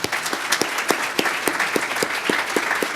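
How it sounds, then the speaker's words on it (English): An audience applauding Catholic Charities staff at a formal dinner event, with sharp individual claps standing out over a dense, steady round of clapping that continues throughout. "If we could give the staff members present a round of applause."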